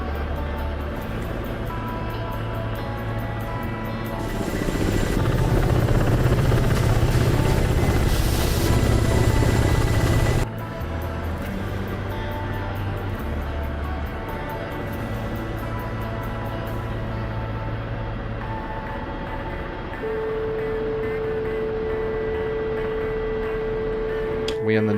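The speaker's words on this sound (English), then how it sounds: "Alright, landing gear coming down. We will land" A video-game aircraft with its landing gear down descends toward a flat spot, giving a steady engine and rotor drone that swells louder for several seconds midway, then settles into a continuous hum with a tone change near the end and talk over it.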